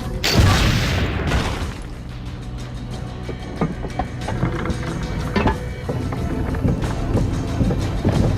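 A cannon fires in Assassin's Creed: Brotherhood, a loud booming blast at the start followed by a dense, rumbling game soundscape with scattered impacts and mechanical clatter.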